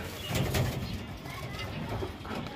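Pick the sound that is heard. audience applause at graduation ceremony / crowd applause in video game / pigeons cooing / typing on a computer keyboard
pigeons cooing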